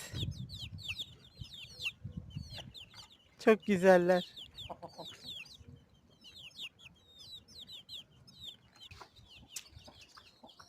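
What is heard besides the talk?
chickens and chicks clucking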